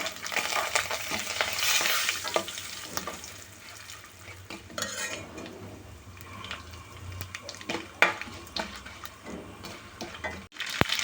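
Dried red chillies crackle in hot tempering oil with lively, uneven sizzling and spitting, close up. Scattered clinks of a spoon against the pot run throughout, ending in a sharp knock, with no talk.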